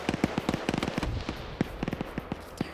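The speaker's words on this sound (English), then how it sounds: "Now you're hearing Op4 putting grenades on that cache." Grenades exploding on a cache in a multiplayer shooter game, a rapid dense string of sharp blasts and cracks, loud and close, with irregular spacing over a continuous noisy backdrop.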